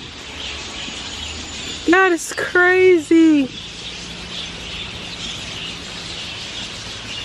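Several loud, harmonic bird calls burst out close by at a waterfall in St. Ann, Jamaica, in a quick run of squawks, with a person exclaiming briefly over steady background noise.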